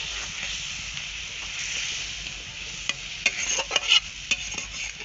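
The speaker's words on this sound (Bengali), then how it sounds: "মশলার সঙ্গে মাছের মাথা কিন্তু ভালোভাবেই কষানো হয়ে গেছে" Fish head cooks with spices in a pan, giving a steady, quiet sizzle. A spoon stirs and scrapes in a few brisk strokes near the end.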